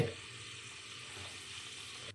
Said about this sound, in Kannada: ಈರುಳ್ಳಿ ಹಾಕಿ ಚೆನ್ನಾಗಿ ಫ್ರೈ ಮಾಡಿ